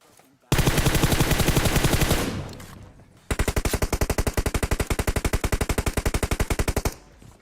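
Automatic gunfire rattles from a school building in a PUBG match: a loud rapid burst for about two seconds that trails off, then a second long sustained burst of evenly spaced shots, with no talk over it.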